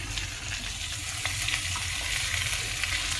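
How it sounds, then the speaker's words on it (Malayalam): Fish pieces fry on a flat tawa pan, giving a steady, close sizzle with scattered crackles and pops throughout, and no talking over it. "ഒരു 10 മിനിറ്റ് മതിയാവും നമുക്ക് മൊത്തം ഫ്രൈ ചെയ്യാൻ വേണ്ടിയിട്ട്"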